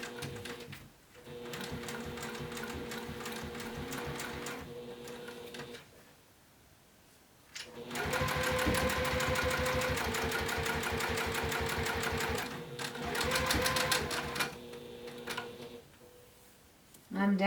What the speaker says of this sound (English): You can fold it down and stitch right over it, no problems.